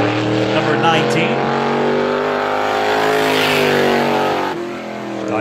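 A race car running a time-trial lap at Star Speedway, a short oval in New Jersey, its engine a loud, steady drone that swells and fades slightly over several seconds, with commentary speech over it.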